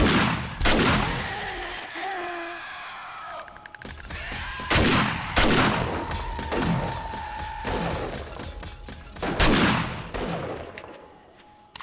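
Automated defensive turrets in the survival game 7 Days to Die fire repeated loud bursts of gunfire at a base, with sharp shots recurring every few seconds over a busy background of game noise.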